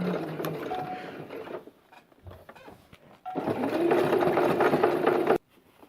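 A sewing machine stitching an embroidery hoop cover, whirring in two close, steady bursts of rapid mechanical chatter separated by a brief quieter pause.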